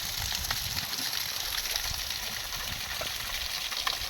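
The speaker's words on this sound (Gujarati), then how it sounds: "પ્રકૃતિની ગોદમાં એક ધોધ સ્વરૂપે પાણી વહી રહ્યું છે." A forest waterfall and the stream flowing from it at Ratanmahal make a steady, fairly loud rush of water with faint splashes, no talk.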